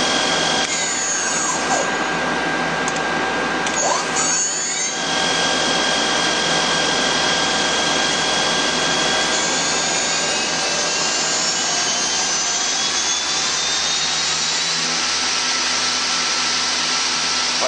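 A 2010 Mazak Nexus QT 200 II CNC lathe spindle running at 700 RPM, a loud steady mechanical whine and hum with rising and falling tonal sweeps early on, then a sustained even drone.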